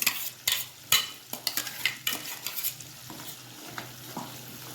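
Spinach puree sizzling softly in oil in a pan, with sharp scraping and stirring clatters, a few loud strokes early, then quieter bubbling frying.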